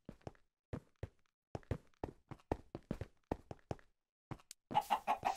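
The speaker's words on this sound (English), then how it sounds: "Oh, look at all these chickens!" Blocky Minecraft-style chickens in the game Polycraft, a string of short, distinct clucks spaced irregularly, close and clear against silence, ending in a brief burst of busier clucking.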